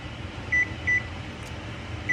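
A kitchen oven timer being set while lunch cooks gives three short, clear electronic beeps, two close together and one after a pause, over a steady low room hum.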